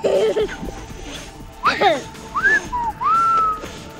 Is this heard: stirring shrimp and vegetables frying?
no